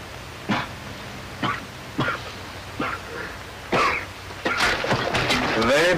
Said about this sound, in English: Very bad cough, my friend.